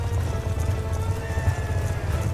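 Horses gallop in Call of Duty: Black Ops 2, a dense low rumble of hooves beneath game sound and music, steady and fairly loud throughout.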